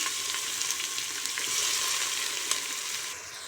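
Sliced onions drop into hot oil with bay leaves, cinnamon and cloves in a cooker for chicken gravy, a steady bright sizzle with faint stirring ticks that eases slightly at the end.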